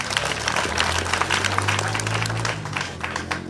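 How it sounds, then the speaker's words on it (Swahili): Audience applause at a community gathering, a dense burst of clapping from a crowd, loud and continuous, with a low hum underneath. "Makofi."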